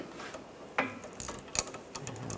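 Ratchet wrench clicking as it tightens a nut on a front sway bar link of a 2009-2013 BMW 328i xDrive, quick quiet ratcheting ticks in short bursts, close up with no talking.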